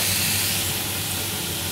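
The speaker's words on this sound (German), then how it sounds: "mit einem kleinen Schuss Weißwein ablöschen" A pan of garlic and shallots sweated in butter hisses and steams steadily as a splash of white wine goes in, a broad close sizzle that fades slightly over under two seconds with no talk.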